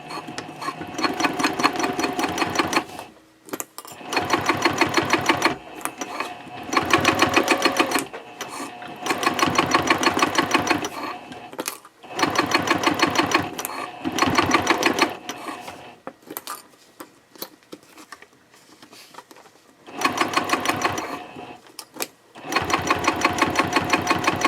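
A sewing machine stitches the card slots of a Cordura fabric trifold wallet. It runs in repeated rhythmic bursts of rapid chattering, separated by short pauses.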